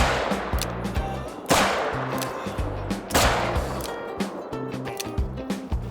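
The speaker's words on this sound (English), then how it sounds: "Four broadside shots should do it, but his health wasn't going down very much at all." Three heavy .44 hollow point shots fired at a bull moose in theHunter: Call of the Wild, each a loud, close blast with a long rolling echo, spaced about a second and a half apart over a pulsing low background.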